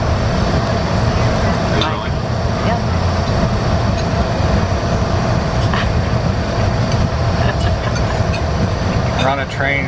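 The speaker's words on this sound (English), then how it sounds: "We're on a train" Steady loud rumble and rattle inside a moving wine train heading toward vineyards, continuous rolling noise with occasional clunks and creaks throughout.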